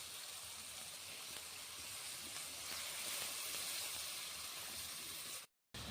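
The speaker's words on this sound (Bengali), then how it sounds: "ওর মধ্যে দিয়ে দিচ্ছি আমি পরিমাণ মতো জল" Water added to a pan of frying prawn malaikari with potatoes and onions produces a steady, even sizzle and hiss that runs for several seconds, fairly quiet and alone, before stopping abruptly.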